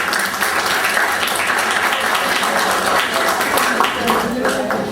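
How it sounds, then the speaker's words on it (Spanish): Audience applause fills a lecture hall at an academic linguistics week event, steady dense clapping sustained throughout at even loudness, with voices mixed in under it. "licenciado Pedro Falcón Sena, para quien pido unos aplausos."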